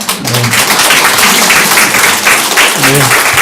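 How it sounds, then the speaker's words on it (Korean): A church congregation applauds to welcome arriving children at an Easter service, steady loud clapping throughout with a few voices and low thumps mixed in. "우리 박수로 한번 환영할까요?"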